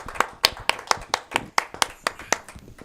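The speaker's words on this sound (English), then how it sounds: "let's give a round of applause for this young man." A few hands clap in a steady, evenly spaced rhythm, sharp and close, about a dozen claps for a young man on a local evening show.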